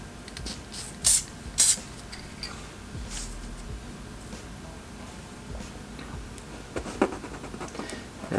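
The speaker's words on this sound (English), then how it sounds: "So I'm just going to do a quick spray here to show you how it will work in practice." Spray paint hisses through a large paper stencil in two short, loud bursts close together. Quieter rustling and small ticking handling sounds follow.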